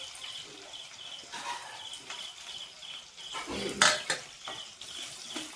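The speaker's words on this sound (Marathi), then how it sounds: "जरा परतून घ्यायचं।" Chopped garlic sautés in a pan for crispy paneer with a soft sizzle, while a spoon stirs and clinks against the metal in irregular scrapes, one louder clatter standing out near the middle.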